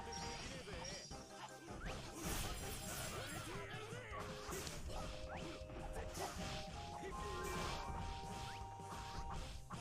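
Repeated crashing, bubbly throwing effects from a game, mixed with busy music and constant background sound.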